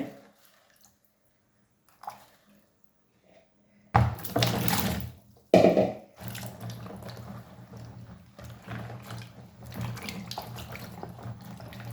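Okra is washed by hand in salted water. Near silence and a few soft knocks give way halfway through to splashing, sloshing and squishing in a bowl or sink, which carries on at a moderate level.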